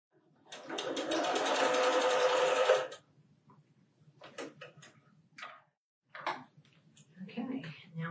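A sewing machine stitching quilt blocks, one close, steady burst of fast mechanical whirring lasting about two seconds, followed by quiet handling clicks and someone talking.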